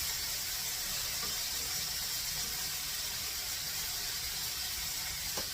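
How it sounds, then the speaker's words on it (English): Onions and pork chops sautéing in a pan give a steady, even sizzling hiss that runs unbroken throughout, with no talking. "The onions are getting nice and sauteed."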